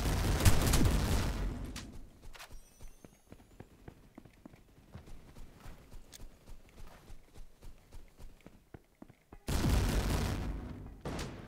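Rapid automatic shotgun fire from an AA-12 in a video game, loud bursts at the start and end with a stretch of quicker, quieter clattering shots in between, no voices.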